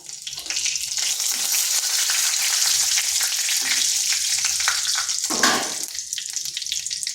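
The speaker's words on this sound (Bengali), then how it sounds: "ওই তেলের মধ্যে ফোড়নে দিচ্ছি গোটা জিরে একটা শুকনো লঙ্কা আর একটা তেজপাতা" Whole cumin seeds, a dried red chilli and a bay leaf sizzle hard in hot oil as a tempering for a barbati and masoor dal dish, a dense, continuous frying hiss with a brief surge of spatter.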